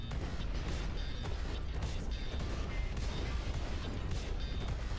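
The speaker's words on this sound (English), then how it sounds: "Right down the middle of the building, too. Just destroy every part of it." A building is smashed apart in the Instruments of Destruction video game. A dense, continuous roar of crashing and crumbling debris holds steady throughout, with no talking.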